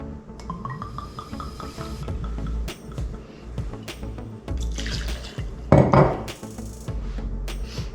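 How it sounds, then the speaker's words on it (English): Vodka glugging into a tumbler filled with ice, cubes clinking and rattling against glass, with a brief louder splash of pouring in the middle; close and fairly quiet. "To make this, you're gonna get a couple of ounces of vodka. Put this in a tumbler with ice in it"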